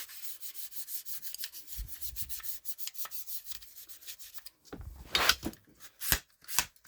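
Cloth rubbing and wiping over parts of a Mossberg 500 12-gauge pump shotgun during oiling, a steady run of soft scratchy strokes close by, ending in a few louder swipes.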